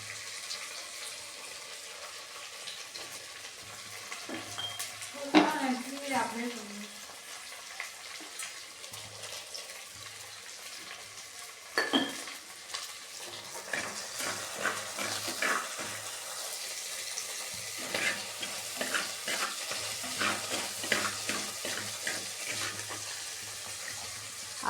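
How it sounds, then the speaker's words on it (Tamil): Onions sauté in a clay pot for Trichy-style sambar over fairly high heat, a soft steady sizzle broken by occasional scraping stirs and clinks of the spoon against the pot. "நல்லா வதக்கிக்கோங்க."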